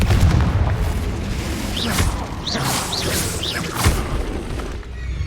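Confringo blasting spell from Hogwarts Legacy erupting in a series of booming blasts with swishing whooshes and crashing debris, loud and continuous over about five seconds.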